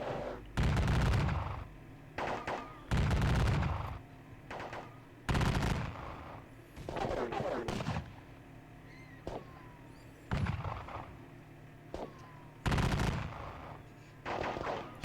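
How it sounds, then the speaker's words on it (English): Volleys of musket fire from a Napoleonic battle video game set around Salamanca, loud bursts of crackling gunshots repeating every second or two with rumbling gaps between. "Still just slugging it out with musket fire."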